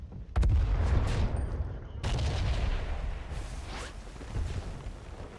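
An artillery piece firing in a tank video game: a deep, loud boom opens the clip, a second heavy blast follows about two seconds later, and each rumbles away under background noise.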